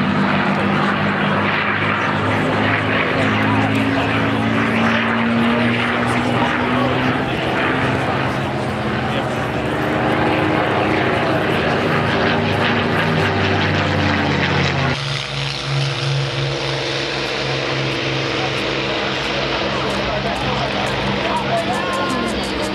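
Propeller aircraft at the Farnborough airshow, droning loudly and steadily with shifting engine tones as it flies past, its pitch falling as it moves by, with voices talking over it throughout.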